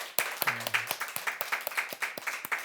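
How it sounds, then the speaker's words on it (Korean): A small congregation claps at a Sunday church service, the claps fairly sparse and distinct rather than a dense roar, a quick uneven rhythm at moderate distance. "주님께 감사의 박수 올려드리도록 하겠습니다"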